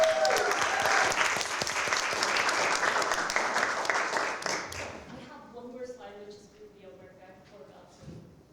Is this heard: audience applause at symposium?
yes